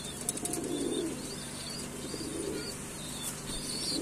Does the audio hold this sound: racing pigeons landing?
yes